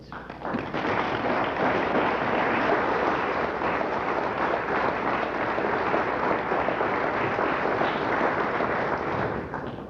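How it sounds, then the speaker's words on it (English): A synagogue audience at Temple Beth-El in Newton, Massachusetts, applauding a talk in 1987, heard as a dense, sustained roar of clapping that holds at full volume for several seconds, with a muffled, slightly dull quality. "I don't want your applause."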